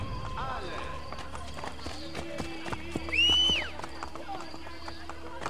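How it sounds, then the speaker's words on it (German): A horse gallops in the video game Assassin's Creed: Brotherhood, its hooves beating in a quick, regular rhythm among other game sounds, with a brief higher call partway through. "Pferdchen, Pferdchen."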